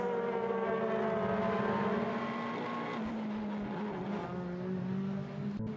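WTCC touring cars racing at Portimao, engines droning at high pitch with gradually shifting tones as cars pass, a loud broadcast-style mix with no talk heard.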